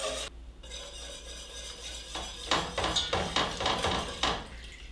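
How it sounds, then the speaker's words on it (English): A metal pot sits unevenly on a stove and rattles while sauce boils inside, giving a series of irregular clattering knocks over a low steady hiss, fairly close and with no talking. "my pot is not sitting evenly on the stove, which is why it gives that rattling sound"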